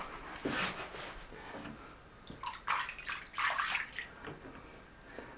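Tap water running and splashing into a plugged tile shower pan during a flood test, a steady wash of running water with a few brighter gurgling bursts, close and unaccompanied by talk.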